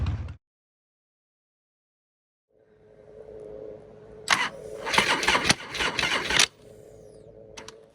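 A Harley motorcycle left in a barn for two years cranks and fires up, with a brief burst, a pause, then a rough engine catching and revving in uneven surges before settling into a ragged idle.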